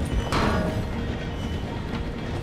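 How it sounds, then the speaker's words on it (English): Train noise from the video game Red Dead Redemption 2: a dense, continuous rumble with rattling wheels and a brief hissing burst early on, heard up close and loud throughout. "The train is slowing down to go through the station."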